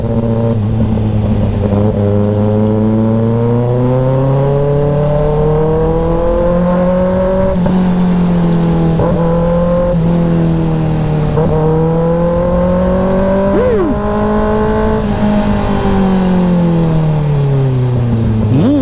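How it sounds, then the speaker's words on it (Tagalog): A car engine roars loudly and steadily through downshifts while driving in Parañaque, its pitch sweeping up and down with each gear change, close and continuous with no talk. "Grabe yung ungol ng makina talaga every time na nagda-downshift."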